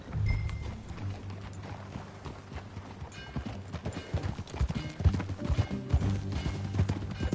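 Horse hooves clip-clop in a steady trotting rhythm as riders travel together in a video game, close and clear over a low background hum, with occasional heavier hoof strikes.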